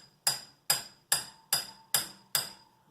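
Six sharp metallic hammer strikes on a steel punch driving out a pistol sight on a Smith & Wesson M&P Shield Performance Center, evenly spaced about half a second apart, close and ringing briefly after each blow.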